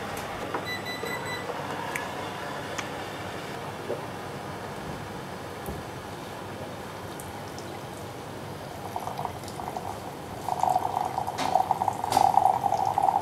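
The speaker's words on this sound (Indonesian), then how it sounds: "ketika kita menuang teh ini, airnya tuh pastikan semuanya terbasahi ya, si tehnya itu" Hot water is poured over loose tea leaves during a tea-brewing demonstration, a soft steady splash that grows louder and brighter toward the end, with no talking.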